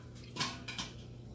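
A metal canning rack is lifted inside a large pot with oven mitts, giving two quick metallic clanks a beat apart, fairly faint against a low background hum.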